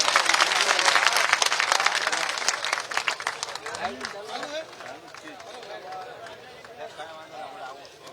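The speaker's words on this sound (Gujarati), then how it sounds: "બધાને વિનંતી કે આપણે સૌ તાળીઓથી એમનું સ્વાગત કરીએ." Applause from a crowd at a Koli community gathering in Vinchhiya, Rajkot, loud and dense at first, then thinning out as a voice begins speaking over it.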